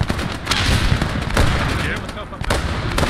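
Enemy machine gun firing in the Post Scriptum match at Arnhem, rapid bursts of gunfire cracking close and loud, with other shots and battle noise layered over a busy background.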